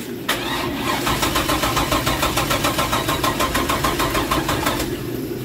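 A Chevy ZZ502 big block engine fitted with a Holley Brawler 850 cfm double pump carburetor idles loud and close, with a steady, lumpy pulse throughout.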